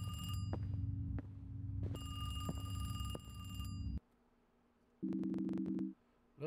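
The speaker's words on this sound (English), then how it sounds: "We got a different ending. We got a phone ring this time." A telephone rings in a horror video game, an electronic bell-like tone sounding in several bursts over a droning ambient hum, with clear gaps of near silence between the later rings.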